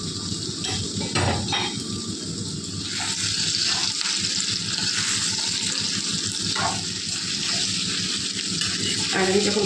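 Chicken pieces fry with onions in a pan for chili chicken, giving a steady, loud sizzle throughout with occasional clinks of a utensil against the pan.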